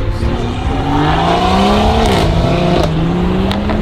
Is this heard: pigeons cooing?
no